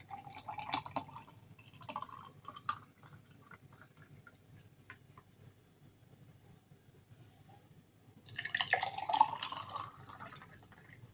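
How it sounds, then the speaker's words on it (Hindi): Chonge and rose sharbat is poured into glasses, giving faint dripping and trickling liquid sounds, with a fuller splashing pour near the end. "इस तरह से मैं ग्लासेस में डाल रही हूँ"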